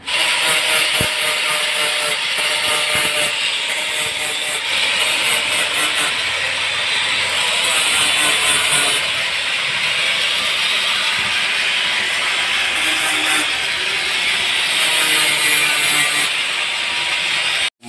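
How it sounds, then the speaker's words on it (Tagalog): A surface is sanded smooth to remove roughness before priming and painting it yellow, producing a loud, continuous rasping scrape with rhythmic strokes that runs unbroken for the whole stretch. "medyo sasandarin lang po natin ito para mawala yung gaspang niya"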